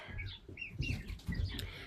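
Roosters crowing in a backyard chicken pen, with high drawn-out calls rising over lower clucking and brief wing flaps, fairly close and moderately loud, no talking.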